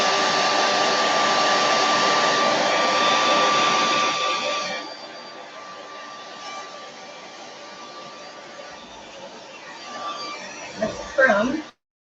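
A heat tool drying paint on painted flowers blows a loud, steady, close-up roar that drops to a lower hum partway through, followed by a few brief rustles and knocks as it stops.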